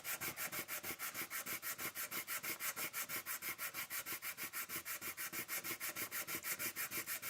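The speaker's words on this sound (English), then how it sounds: "just keep on sanding until it is free" Steady rhythmic rasping of sandpaper rubbed back and forth by hand on wood, fast, even strokes, close up and continuous.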